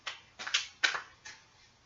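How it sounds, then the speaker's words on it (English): Tarot cards are given a shuffle, with four separate soft papery slaps and swishes spaced unevenly, close and fairly quiet with no talk. "I'm just going to give it another shuffle."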